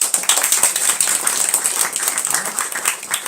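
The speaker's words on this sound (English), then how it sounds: "One big clapping for them." Loud, close clapping from a group, brisk and continuous for a few seconds, with a few sharper claps standing out.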